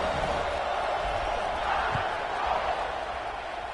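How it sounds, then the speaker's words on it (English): Stadium crowd at a college football game roars steadily as the teams line up for the kickoff, a dense, continuous wash of cheering and noise from thousands of fans with no break across the moment. "They're set to kick it off, and this crowd now ready to get behind them."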